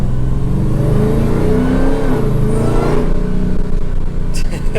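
A Hellcat-swapped Dodge Dakota engine revs loud and close, its pitch climbing and then dropping as paddle shifts click through the gears, with a voice talking over the engine.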